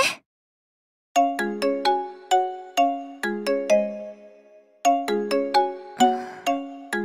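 A phone rings in a video game with a bright, chiming melodic ringtone. Quick bell-like notes repeat in phrases after a short pause, close and clear, with no talking over them.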